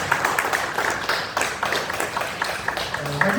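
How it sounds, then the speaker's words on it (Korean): A church congregation claps together in celebration of members' birthdays, a brisk, fairly loud round of applause filling the room, with a faint tone near the end. "우리 박수로 축하하고"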